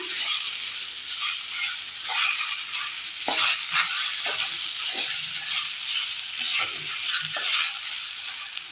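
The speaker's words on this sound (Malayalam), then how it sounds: "ചതച്ച് വെച്ചിരിക്കുന്ന നെല്ലിക്ക കൂടി ചേർത്ത് കൊടുക്കാം. ഇനി ഇത് നന്നായി ഒന്ന് മിക്സ് ചെയ്തെടുക്കാം." Crushed gooseberry is stirred into a hot mixture in a pan, making a soft continuous sizzle punctuated by repeated scraping spoon strokes every second or so; no one speaks.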